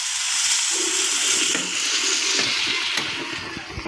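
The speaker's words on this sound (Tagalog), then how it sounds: "Ilagyan natin ng konting tubig guys." Water poured into a hot cooking pan of hotdogs and potatoes, a close, continuous hissing splash and sizzle lasting several seconds with no talking.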